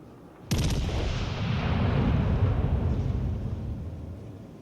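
Turret guns on a warship in World of Warships Legends fire as one sudden heavy boom, followed by a long rumbling roar that slowly fades.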